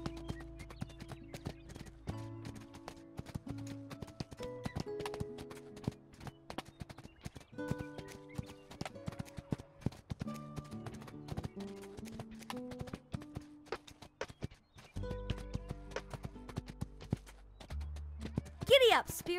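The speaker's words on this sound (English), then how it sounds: "Giddy up, Spirit" Galloping horse hooves in the Spirit Lucky's Big Adventure video game thud in a quick, rhythmic clip-clop beneath game music, with occasional whinnies and a voice urging the horse on.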